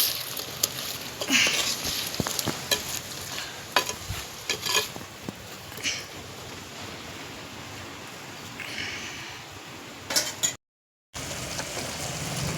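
A vegetable curry with whole garlic cloves is stirred in a clay pot, with uneven scraping and clacking strokes plus a soft sizzle that grow sparser toward the end. A short cut of silence falls near the end.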